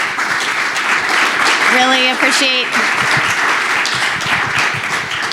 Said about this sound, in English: I'd love to have a round of applause for our panelists